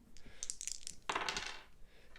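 Two green dice clatter and roll across a tabletop during a Cthulhu: Death May Die board game, a quick sequence of hard clicks ending in a brief rattling tumble.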